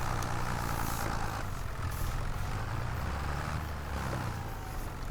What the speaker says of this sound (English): Let's jump into this tractor.